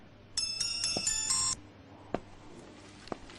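A phone rings with a bright electronic ringtone in a few short bursts, clear and fairly close, followed by quieter room noise with a couple of soft knocks.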